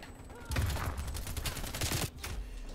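A fast burst of AK-47 automatic fire in Call of Duty, a rapid string of sharp cracks lasting about a second and a half, loud and close, followed by quieter game ambience.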